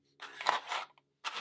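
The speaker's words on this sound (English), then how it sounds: "I'm going to take scissors and I'm going to cut the excess backing material" Scissors snip through excess vinyl backing material for a Cricut Joy craft project: two quick close cuts in succession, a brief pause, then a third short snip, crisp and near against silence.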